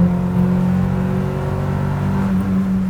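A JDM Honda Civic Type-R with a 1.8L stroker engine revs up into VTEC, a loud, steady, rising engine tone heard up close that holds for several seconds with no one talking.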